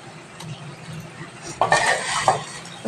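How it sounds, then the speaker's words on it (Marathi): Whole spices for garam masala, including star anise, cardamom and nutmeg, are dry-roasted in a pan, giving a few scattered metallic clinks and scrapes of a utensil stirring, moderately close, over a soft background. "असं सगळं हे भाजून घेते."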